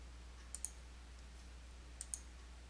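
A computer mouse clicks sharply in a quiet room while QuickBooks desktop software is in use, in two quick pairs of taps about a second and a half apart over a low steady hum.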